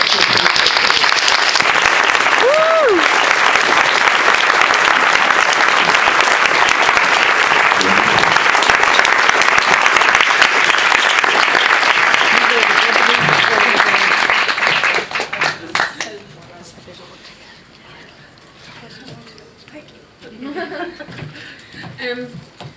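A theatre audience claps loudly and steadily for The Wheelchair on My Face team for about fifteen seconds, with a little laughter, before the applause thins out into scattered claps and murmuring.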